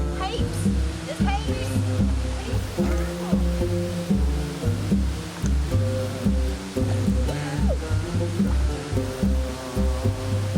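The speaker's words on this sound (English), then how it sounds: "One of the most beautiful waterfalls I've ever been to." Hin Lat Waterfall on Koh Samui, Thailand, sends a steady rush of falling water that rumbles continuously throughout. Louder tonal sounds and voices are layered over it.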